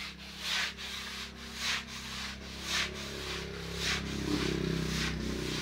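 A coconut husk scrubber (bunot) is pushed back and forth across a floor in steady rhythmic scrubbing strokes, about one per second, rasping close and clear with no talk.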